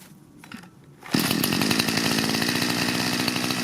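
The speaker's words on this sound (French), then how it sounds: "Voilà pour la petite présentation de la tronçonneuse thermique de Parkside." A Lidl Parkside petrol chainsaw fitted with an Oregon chain and bar is started up: quiet handling sounds, then from about one second a loud, steady close-up engine drone that holds to the end.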